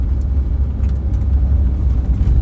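Steady low engine rumble and road noise from inside a camper van driving on a rural road in Turkey, loud and continuous with no talk.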